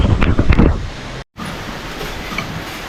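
Wind buffets the microphone in loud, uneven gusts, with a short dropout midway before a steadier rushing continues.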